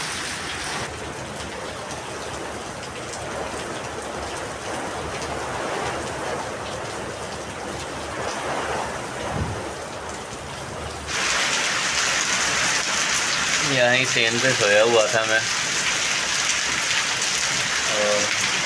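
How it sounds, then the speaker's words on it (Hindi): Heavy rain pours down in a steady, dense hiss that grows noticeably louder partway through, with someone speaking briefly over the downpour near the end. "बहुत तेज़ बारिश है"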